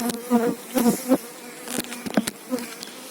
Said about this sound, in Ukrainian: Ну, одним словом, маленький, маленький рій.